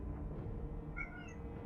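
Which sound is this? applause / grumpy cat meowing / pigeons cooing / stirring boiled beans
grumpy cat meowing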